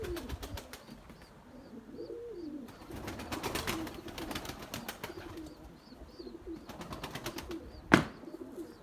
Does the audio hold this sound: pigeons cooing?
yes